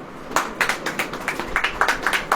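Rhythmic clapping from a church congregation during a Hindi sermon, about eight steady claps in a row, moderately close with no talk over them.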